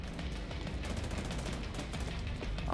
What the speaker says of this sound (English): Oh, who's shooting me from behind?